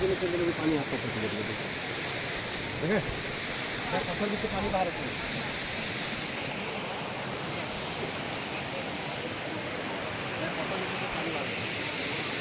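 The Dudhi Dhara waterfall on the Narmada at Amarkantak roars as a steady, dense rush throughout, with people speaking faintly over it.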